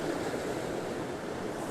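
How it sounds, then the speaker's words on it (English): Ocean waves washing over rocks at 1770, Queensland, a soft, continuous surf hiss with some wind noise, fairly faint and steady throughout. "Just waiting for waves to come in."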